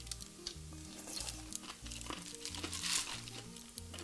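Radish strips for kimchi are tossed with seasoning by hand, giving soft, wet crinkling and squelching at close range, quiet under light background music.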